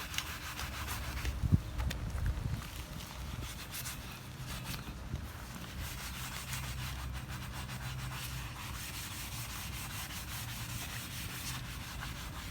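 Continuous rubbing and scrubbing of steel rock sliders for a Land Cruiser 100 series, a steady abrasive brushing texture with a few louder knocks early on, close and moderately loud with no talking.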